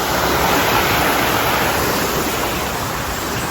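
A river at Tai Lam Chung rushes in a dense, steady wash of water noise, loud and close, unbroken for the whole stretch with no voices.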